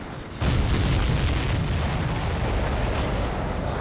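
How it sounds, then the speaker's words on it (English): A missile explosion strikes a supply ship in the Ace Combat 7 video game: a sudden loud boom bursts in, then a dense, sustained rumbling roar that keeps going without a break. "The missile hit the supply ship dead on."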